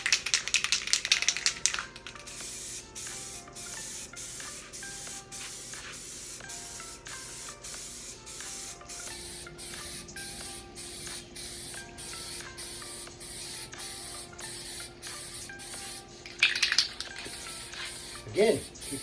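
Aerosol spray paint hisses from a can in repeated short bursts, a steady rhythm of close spray pulses for painting a hydro dip piece, with a few louder rattling bursts near the end.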